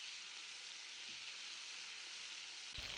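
Prawns sizzle in a hot pan with turmeric and salt, a steady close frying hiss running without pause, with a brief clatter near the end.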